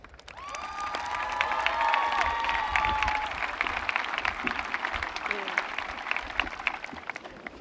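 A crowd applauds and cheers at a high school graduation ceremony. The steady, moderately loud clapping mixes with shouts and whistles and carries on under scattered voices.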